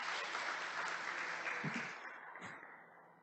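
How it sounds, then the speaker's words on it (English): An audience applauds after a religious class at a Chicago temple gathering, a dense patter of many hands clapping that gradually thins and fades out over about three seconds. "Please can I give a round of applause for it?"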